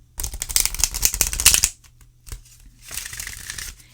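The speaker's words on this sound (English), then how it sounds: "Few enough that you can shuffle them easily." Oracle cards being shuffled close up: a dense, crisp riffling burst, a brief pause with a soft tap, then a quieter second shuffle.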